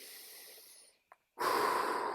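Deep breathing into the side ribcage during a yoga stretch: a long, steady breath, a pause with a brief catch, then a loud, close, airy breath that carries on to the end.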